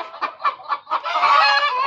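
Laying hens on a farm clucking up close, a quick run of four or five short clucks followed by a longer, drawn-out squawking call.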